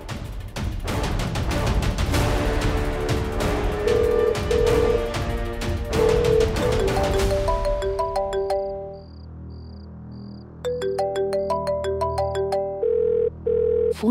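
A busy musical passage fades into a melodic electronic phone ringtone, a short repeating tune chiming loudly twice near the end.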